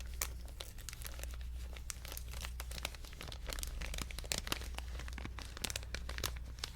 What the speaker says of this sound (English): It is the metallicized plastic snack bar wrapper.